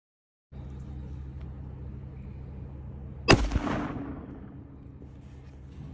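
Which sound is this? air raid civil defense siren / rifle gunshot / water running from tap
rifle gunshot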